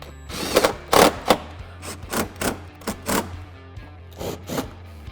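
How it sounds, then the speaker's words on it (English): Screws being tightened on a Lund riveted fender flare on a Ram truck, heard as a series of short bursts from a driver, roughly a dozen whirring pulses in an uneven rhythm, close and fairly loud. "then we'll go ahead and start tightening these screws down"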